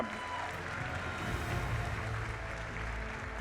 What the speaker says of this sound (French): Bravo au trophée, on peut applaudir très fort quand même.